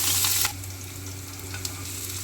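Chopped green chilies and onions frying lightly in a pan with cumin, opening with a loud burst of hissing as they go in, then settling to a quieter steady sizzle over a low hum, with a faint tap near the end.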